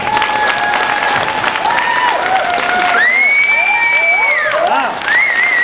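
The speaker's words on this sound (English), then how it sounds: "Big round of applause for former Senator RickSantorum." Audience at a Tea Party political rally cheering and applauding for former Senator Rick Santorum, loud sustained clapping with high whoops and shouts rising over the crowd.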